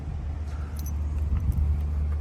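A set of car keys for a 1976 Pontiac Grand Prix Model J jangles in brief, faint metallic bursts over a steady low rumble.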